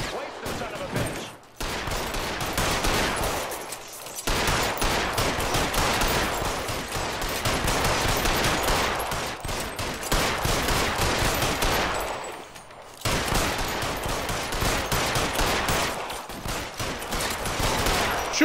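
Sustained gunfire from a shootout in the video game L.A. Noire, loud dense volleys running almost continuously with two brief pauses, voices faintly mixed underneath.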